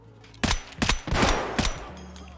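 Several loud gunshots from hip-firing a weapon in Escape from Tarkov, on the Streets of Tarkov map, come as four sharp bursts spread over about two seconds, each with a ringing tail, and no talk over them.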